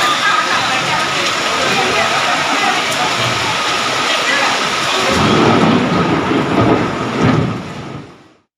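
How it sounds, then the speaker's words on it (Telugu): Dense, steady roar of heavy rain pouring down in Visakhapatnam, broadband and continuous, swelling slightly near the end before fading out. "విశాఖలో ఒక్కసారిగా కుండపోత వర్షం కురిసింది"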